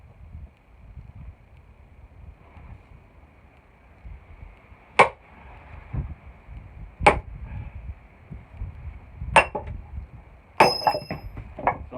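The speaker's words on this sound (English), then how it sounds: "So you hear that big ting, that means she split right to the bottom." Hickory logs being split for axe handles give several sharp metallic tings and knocks spaced a couple of seconds apart, the last ones clustered, over low outdoor wind rumble.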